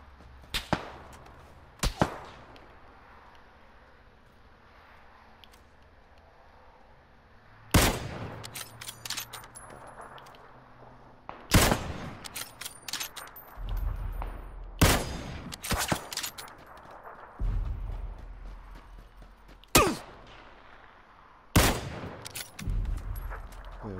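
Sharp, loud gunshots in PUBG on PS4, mostly single cracks spaced several seconds apart, with some ringing and low rumbling tails over quiet background ambience.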